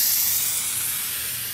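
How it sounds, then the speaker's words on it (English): A continuous hissing spray from an aerosol can of spray glue, bright and close, held steadily for a moment and fading slightly at the end. "I wanna throw a little bit of spray glue on here first"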